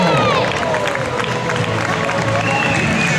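Spectators along the Vigo carnival 5 km road race applaud and cheer steadily for passing runners, a continuous mass of clapping and crowd noise with a voice speaking over it.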